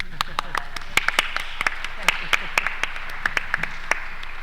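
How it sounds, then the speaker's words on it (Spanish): An audience at an annual university workshop claps in sparse, scattered applause, individual hand claps sounding fairly close as the clapping continues unevenly for several seconds. "Por favor, un aplauso para De Lucas."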